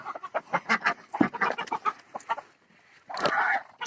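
Chickens cluck in quick, uneven bursts close by on a rooftop, with a louder squawking call near the end.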